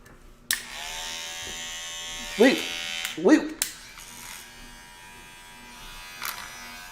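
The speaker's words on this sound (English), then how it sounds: "We are using the cheapest cordless clippers before we use anything with a cord" Cheap cordless metal-body hair clippers are switched on and buzz steadily at close range. The hum continues under brief bursts of a voice.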